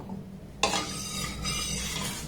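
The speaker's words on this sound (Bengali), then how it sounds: "গ্যাসের ফ্লেমটাকে প্রথমে লো টু মিডিয়াম দিয়ে দুধটাকে একটু ভালোভাবে আমি ফুটিয়ে নেব" Milk heating in a pan over a gas flame on low to medium, a steady close hiss and bubbling sizzle that swells sharply early on, with a low hum underneath.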